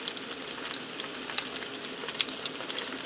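Pierogies fry in an electric skillet set to 250, giving a steady close crackling sizzle with scattered sharp pops and spatters throughout.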